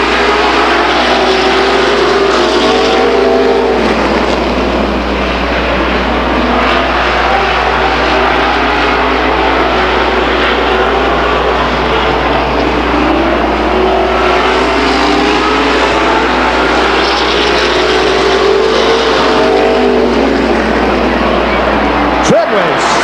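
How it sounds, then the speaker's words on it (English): Stock cars race at Stockton 99 Speedway in 2001, a loud, continuous roar of engines rising and falling as cars sweep past, with an announcer talking over the din. "That's some exciting stock car racing right there, folks."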